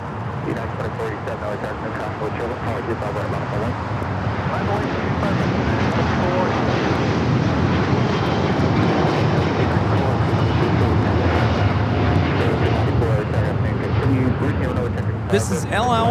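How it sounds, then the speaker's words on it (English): A Boeing 787-9 Dreamliner in retro livery takes off from Los Angeles LAX, its jet engines making a loud, sustained roar that holds steady throughout, heard outdoors from a distance with someone talking over it. "This is LL Flight 6 taking off to Tel Aviv on the 787-9 Dreamliner in the retro livery."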